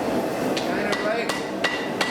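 Hammer forging a knife tang on the edge of an anvil: about five sharp metallic strikes at an irregular pace, close and clear, ringing briefly over a steady background roar.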